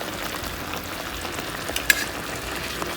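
Chicken frying in a pan gives a steady, close sizzle with faint stirring, no talk, and one brief sharp click near the middle.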